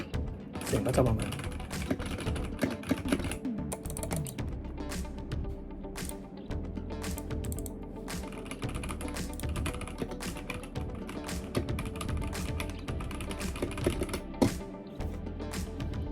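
Typing on a Keychron V4 mechanical keyboard makes a steady run of close, clacky keystrokes for about sixteen seconds at a fairly quiet level, with someone talking now and then over the clicking.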